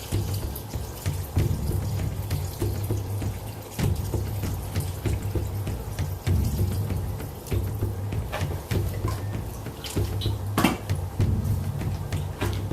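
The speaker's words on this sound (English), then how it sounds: "I'm going to get some more water and put it in." Steady running water pours into a stock pot, a continuous rushing wash with a few small clanks and taps mixed in.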